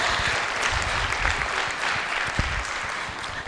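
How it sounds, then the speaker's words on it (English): Audience applause after a practical presentation at a Women & Girls in Cyber event at BICC in Lilongwe: dense, steady clapping from a hall full of people, holding even for several seconds with no voices. "please give them a huge round of applause"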